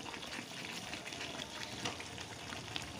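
Potatoes frying in oil in a wok while meat cooks, a soft continuous sizzle and crackle with faint stirring, quiet and close, no voices.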